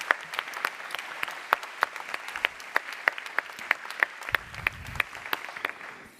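An audience applauds staff at the opening plenary of a conference in northern France: a steady patter of hand claps with sharp individual claps standing out, moderately loud throughout.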